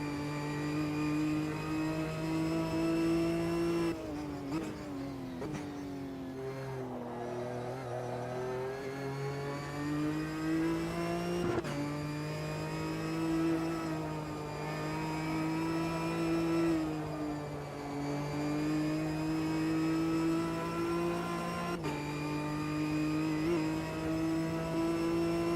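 A Ginetta Supercup race car's engine in Automobilista 2 at Road America, holding a steady, buzzing drone that rises and falls through gear changes across a long stretch, loud and continuous with no talking.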